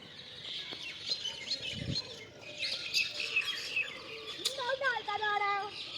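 Parrots and other birds chirp and call in a park aviary in Islamabad, scattered bright calls and trills near and far, with a brief low thump and faint background voices.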